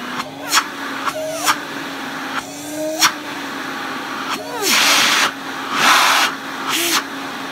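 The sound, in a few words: Electrolux 304 cylinder vacuum cleaner running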